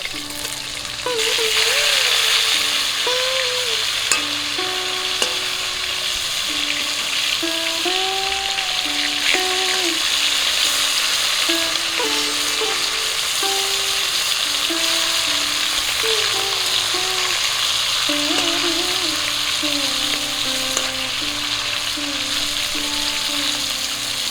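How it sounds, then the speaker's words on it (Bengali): Rohu fish pieces fry in hot oil in a kadai, producing a steady, loud, close sizzle that runs the whole time, with a soft melodic tune underneath. "মাছগুলো এক পিট করে ভাজা হয়ে গেছে উল্টে দিচ্ছি"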